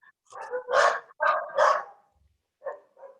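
A small dog lets out a burst of four sharp yips, then two softer barks after a short pause, heard close over an online meeting's quiet line.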